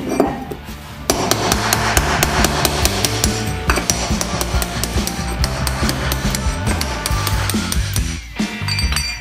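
A steel chisel is hammered under an old broken floor tile to pry it up, giving a rapid run of sharp, loud metallic blows close by with scraping between strikes, with no talk over it.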